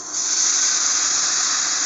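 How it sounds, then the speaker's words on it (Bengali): Hot water poured into a pot of frying khichuri made with chinigura rice and masoor dal, giving a steady, loud hiss of steam that runs unbroken for about two seconds. "এখন এতে পরিমাণ মতো গরম পানি দেব"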